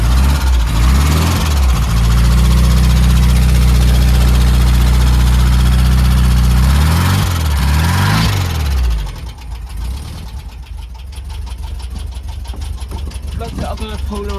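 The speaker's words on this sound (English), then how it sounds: "This exhaust sound low" A 1972 VW Beetle engine idles loudly and close, a deep, steady low exhaust rumble with a brief dip in the middle, then the tone thins and quiets toward the end.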